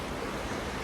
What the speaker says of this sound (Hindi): it's a river